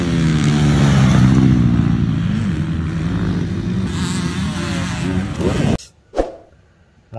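A motocross motorcycle engine drones loudly and steadily for several seconds with a rough, revving tone, then cuts off abruptly, leaving a brief faint noise.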